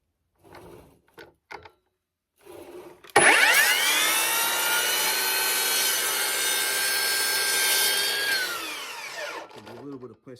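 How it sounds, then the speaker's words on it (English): A hole saw bites into a plastic base plate with a sudden loud, harsh whine that holds steady for about six seconds and then winds down, after a few short scrapes and taps. "Now we cut them into the base plate."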